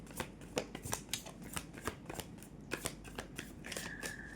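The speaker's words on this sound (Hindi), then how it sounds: "यहाँ कार्ड को शफल्स करना और उसकी एनर्जी को लेना बहुत ज़रूरी है।" Tarot cards being shuffled by hand, a quiet, close series of crisp riffling and slapping card sounds in an irregular rhythm, with a faint high tone entering near the end.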